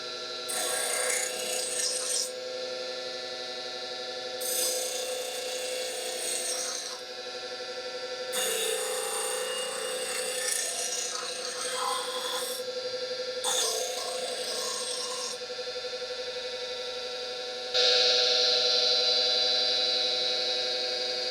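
A bowl gouge is rolled against a spinning grinding wheel, giving several raspy, broadband grinding passes of two to four seconds each, separated by short pauses, with a steady motor whine beneath and a brighter, louder stretch at the end.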